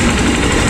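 A motorcycle engine idling smoothly right after a push-start, a brief, loud, steady close-up putter.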